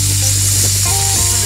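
Overheated Lada Niva engine boiling over at an off-road trophy event, giving a steady close hiss and sizzle with a faint mechanical hum underneath, no talk.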